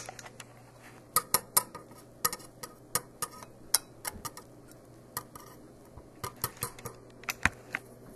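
A whisk taps and scrapes in quick irregular clicks against a bowl while mixing a cocoa mixture for chocolate cake, close and fairly quiet, with no talk.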